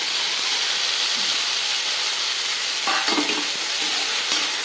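Tomatoes and onions fry in a hot pan for chilli chapathi, giving a loud, even hiss of sizzling oil with a few stirring scrapes and clacks near the end, and no speech.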